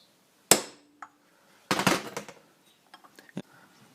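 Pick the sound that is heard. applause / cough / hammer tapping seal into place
hammer tapping seal into place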